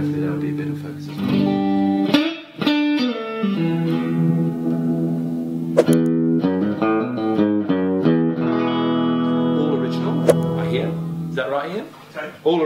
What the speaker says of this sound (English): This, 1967. It's very exciting. I'm playing through a pro reverb here.